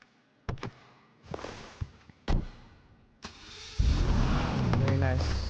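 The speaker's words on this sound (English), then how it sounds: "This is my Supra. I'm gonna do a startup on this." A Toyota Supra engine starting up in the GTA 5 video game: a few sharp clicks and knocks, then a loud crank that catches around the midpoint and settles into a steady, close idle for the rest of the clip.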